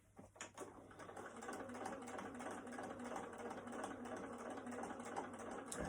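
A sewing machine stitching a fabric face mask casing, running in a steady, rapid, continuous whir with fine ticking, close but fairly quiet, after a few brief clicks at the start.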